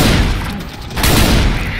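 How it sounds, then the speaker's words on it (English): Auto shotgun in Left 4 Dead 2 firing in a rapid, lag-blurred stream, loud, dense booming bursts that run together like automatic fire. "My lag makes the auto shot look like a machine rifle."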